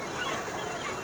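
Local ducks and geese crowd a busy poultry market on a Friday, a dense honking and quacking chorus that stays loud and continuous throughout.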